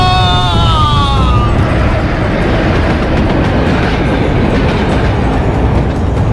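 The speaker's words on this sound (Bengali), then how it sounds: "আর ঠিক সেই সময় ট্রেনটাও প্রচন্ড দুলে উঠলো একবার।" A train rattling and swaying as a radio drama sound effect: a loud, steady rumble of wheels and carriages, with a brief high screech at the start and no talk over it.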